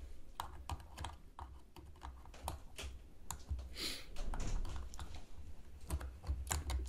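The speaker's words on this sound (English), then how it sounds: "We'll trim off those loose ends." Wire cutters snip the loose wire ends of a vaping coil on an RDA deck, a quick series of small sharp clicks and ticks at close range, quiet and spread over several seconds with no talk.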